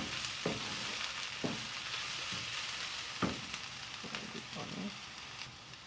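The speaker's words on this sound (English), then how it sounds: "Now fry the onions and coconut for 2 to 3 minutes." Onions and grated coconut frying in a pan for Chettinadu fish curry, a steady soft sizzle broken by a few sharp clatters of stirring.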